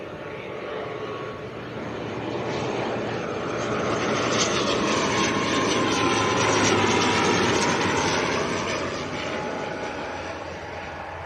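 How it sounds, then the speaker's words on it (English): An Aer Lingus airliner from Belfast on final approach at half a mile, its jet roar swelling steadily as it passes close overhead, then easing slightly at the end, with no talk. "Right, next aircraft, half a mile final. Aer Lingus from Belfast."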